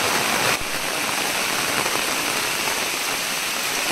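Monsoon rain falls at the edge of a forest in the Konkan, a continuous broad, even hiss of drops on leaves and ground, with a brief bump near the start, steady throughout.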